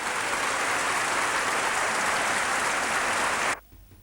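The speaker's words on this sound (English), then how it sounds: "As the applause thundered in Sydney" Thunderous, continuous crowd applause at a campaign meeting in Sydney roars evenly for several seconds, then cuts off abruptly to near silence.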